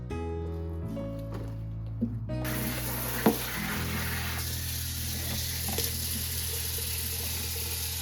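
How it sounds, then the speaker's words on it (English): Tap water runs steadily over button and shiitake mushrooms in a kitchen sink, a soft continuous hiss with small splashes and handling knocks, fairly quiet and close. "So I'm going to wash the button mushrooms and the shiitake mushrooms."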